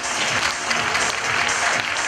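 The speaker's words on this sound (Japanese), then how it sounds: "改めて大きな拍手をお送りください" Dense audience applause for actress Erika Sawajiri at a Japanese smartphone commercial presentation, loud and continuous clapping from a large crowd with no voices over it.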